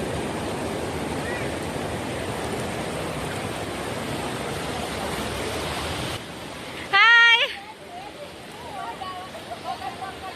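River water rushes steadily over stones for about six seconds as a group wades across, then cuts off abruptly, followed by a short loud voice-like burst and quieter murmurs.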